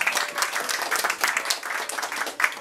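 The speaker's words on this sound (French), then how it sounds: "On l'applaudit." The audience at a poetry evening applauds steadily, a moderate, dense patter of many hands clapping in a room, with no other sound standing out.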